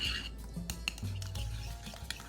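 Egg, vanilla, powdered sugar and yogurt stirred together for a pastry dough in a bowl, with soft utensil scraping and light clinks against the dish, steady and close with no talking.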